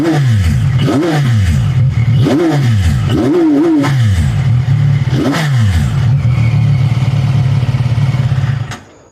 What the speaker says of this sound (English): Revs up real nice.